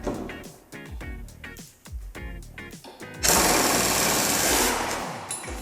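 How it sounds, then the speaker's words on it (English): An impact wrench hammers in repeated short bursts to loosen the blade on a John Deere riding mower, loud and close, followed by a sustained louder rattling run as the bolt breaks free. "see what we can do with this impact"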